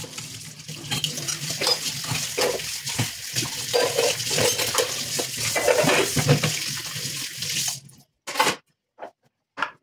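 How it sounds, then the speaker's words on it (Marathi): Pots and dishes are scrubbed at a sink under a steady, close rush of running tap water for about eight seconds, followed by a few short, separate scrapes and clinks once the water stops. "त्याच्या मागे एवढी भांडी सगळी घासावं लागतात"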